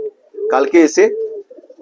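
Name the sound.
pigeon cooing in loft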